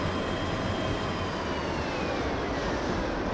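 A train runs in the railway video game Derail Valley, giving a steady, dense rumble and roar that holds without a break for several seconds.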